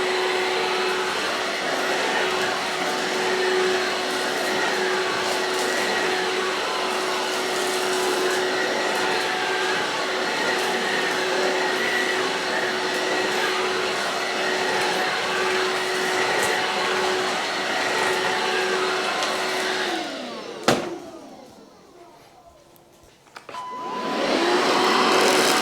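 A Bosch Serie 2 Readyy'y 20V cordless handheld vacuum cleaner runs close up with a loud, steady motor whine, then cuts off abruptly near the end before a brief restart.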